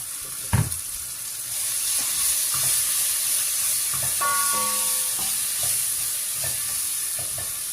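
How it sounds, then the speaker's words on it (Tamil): Biryani masala and chilli powder being stirred in a pan, a steady soft scraping and sizzle with a few louder clinks of the utensil against the pan, close by and without talk. "இதை எல்லாத்தையும் நல்லா மிக்ஸ் பண்ணி கொடுப்பேன்."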